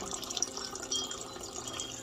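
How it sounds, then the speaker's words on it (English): Fountain water splashes and trickles in a steady bright wash, continuous and moderately close, with no voices. "You'll hear the water sound."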